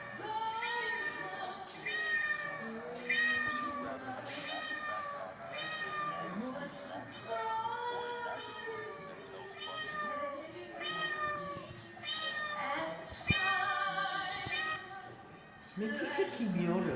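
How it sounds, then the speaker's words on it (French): A cat meows repeatedly in a video game, short rising and falling calls coming every second or so at moderate volume, with people talking over and between them. "Mais qui c'est qui miaule? Bah, c'était sur le jeu."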